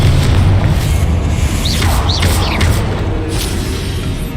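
A Confringo blast spell in the Hogwarts Legacy video game goes off as a steady loud boom over continuous rumbling battle noise, with brief rising whistling streaks layered on top.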